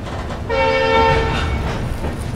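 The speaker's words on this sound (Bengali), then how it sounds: "ছেড়ে দিল আমাদের ট্রেন রাঙাপাড়া স্টেশন থেকে" A passenger train pulling out of Rangapara station sounds a sustained horn over a low rumble of wheels and engine, loud and close, fading slightly toward the end.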